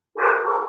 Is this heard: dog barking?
yes